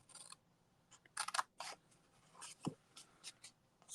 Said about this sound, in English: I am going to cut along here and along here to that score line